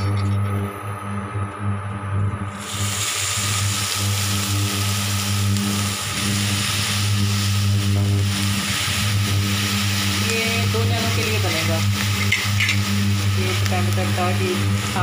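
Carrots sizzle steadily in desi ghee in a pan on an induction cooktop, a loud continuous frying hiss with a low steady hum beneath; no talking.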